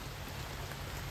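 Steady rain pattering on surfaces at a night campsite on an island, a dense, even hiss with no voices.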